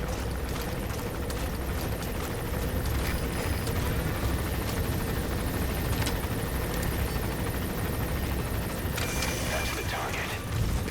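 A helicopter drones in the video game Metal Gear Solid 5: The Phantom Pain, a loud continuous rotor rumble held throughout with some mechanical clanking on top and a voice talking over it.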